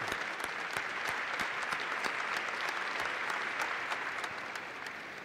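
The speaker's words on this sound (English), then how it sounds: "You're getting applause if you can't hear it." An audience at a NASA budget proposal hearing applauds in a steady, moderately distant wash of clapping that continues evenly for several seconds.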